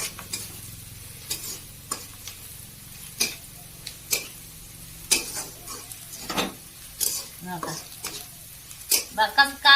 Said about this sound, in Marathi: कस कांदा भाजला आता ह्यो.